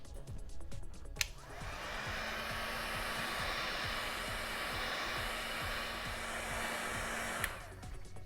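A heat tool blows a loud, steady whoosh with a low motor hum as it heat-seals foam Boba Fett armor pieces, switched on with a click at the start and cut off at the end.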